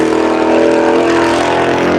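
A Roush Performance race car roars past on the track during the Tire Rack One Lap of America at Hedge Hollow, its engine loud, close and steady throughout.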